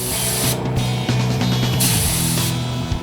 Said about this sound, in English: Look at the paint coming out of the spray gun.